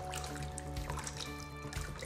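Warm water poured into a bowl with yeast for homemade bread dough, a soft steady trickle and splash that runs unbroken at close range, with a faint low hum underneath.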